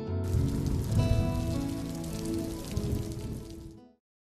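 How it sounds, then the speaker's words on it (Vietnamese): Heavy cartoon rainstorm with gusting wind, a dense steady hiss of rain pelting surfaces that holds loud and continuous for nearly four seconds, then cuts off abruptly to silence. "Thôi chết rồi, lại sắp mưa to gió lớn rồi,"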